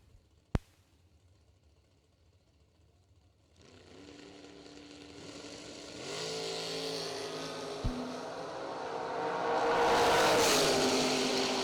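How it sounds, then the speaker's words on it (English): A second-generation Chevrolet Camaro drag races down the strip at a million-dollar race, its engine note rising out of quiet with a sharp click first, then a growing roar that swells loudest near the end as the car passes. "Second gen Camaro coming at us, 576 dial in"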